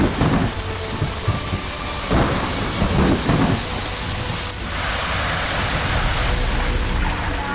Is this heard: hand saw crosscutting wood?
no